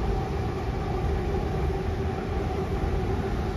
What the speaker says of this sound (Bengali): দেখুন মেট্রো যাচ্ছে উপরে